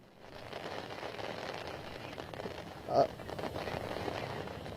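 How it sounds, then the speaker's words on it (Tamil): Heavy rain and strong wind from Cyclone Vardah lash Marina Beach in Chennai, making a steady broadband roar with gusty surges and a louder buffeting thump midway. "இங்கே காற்றின் வேகமானது மிக அதிகமாக இருக்கிறது. மழை பொழிவானது மிகவும் அதிகமாக இருக்கிறது."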